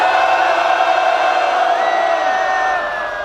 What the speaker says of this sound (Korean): 여러분 와 하고 함성을 외쳐보겠습니다